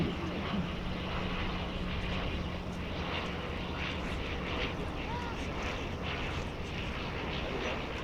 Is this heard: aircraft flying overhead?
yes